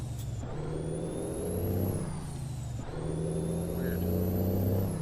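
A truck drives in American Truck Simulator with a steady low engine drone and rumble throughout. Faint tonal whines rise and fall over it. No one speaks.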